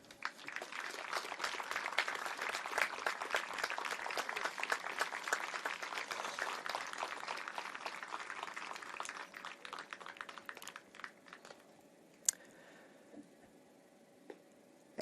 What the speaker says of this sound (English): a warm round of applause for not only a scholarship recipient Jared Donaldson, but the entire Newberry family.